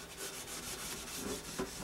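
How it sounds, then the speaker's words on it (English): A Brillo pad scrubs the inside of a wok being cleaned before seasoning, giving a steady, close abrasive rubbing that runs without pause for a couple of seconds and stays fairly quiet. "We'll get in here and just give it a really good scrubbing."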